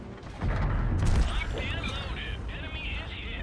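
A heavy tank shell explosion in World of Tanks bursts out early, followed by a rumbling, crackling decay, with synthetic game-like whines and tones lingering afterward.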